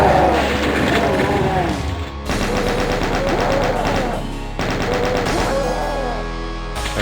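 Chaingunners in Doom II fire long, rapid bursts of loud, dense chaingun shots, nearly continuous with two brief pauses. Speech is picked up in the mix, with heavy game audio throughout.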